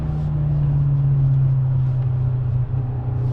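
A standard Mark 7 VW Golf chases a new GTI around the Nürburgring, heard as a loud, steady engine drone and low rumble that holds nearly constant close by.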